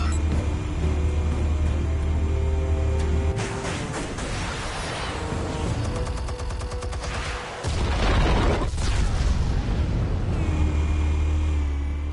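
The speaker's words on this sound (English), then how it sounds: "Explosives armed. Fire when ready." Explosives detonate in a Batman game scene, a dense, roaring blast with rumbling low booms and crackling debris that swells, briefly dips and surges again over a steady low drone.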